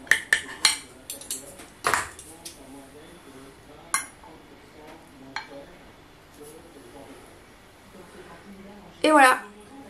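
Cutlery clinking and scraping on a plate while cutting a zucchini hot dog sitting in a little broth, giving scattered sharp clicks and taps at close range, with a brief rattling flurry near the end.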